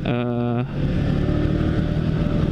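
A Yamaha XSR 155 neo-classic motorcycle engine revs. A buzzy, tonal note holds briefly, then gives way to a rougher, sustained engine drone that stays close and loud.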